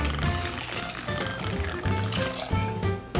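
Premium vodka pours from a bottle into a jigger or shaker for an espresso martini, a close, steady liquid trickle and splash lasting a few seconds over faint background tones.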